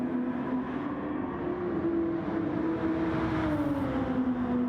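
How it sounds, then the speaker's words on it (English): A quiet naturally aspirated car engine in Gran Turismo 7 drones steadily throughout, its pitch rising slightly then easing back, sustained and moderately near with no talk. "It's actually got a nice engine though, it's just really quiet."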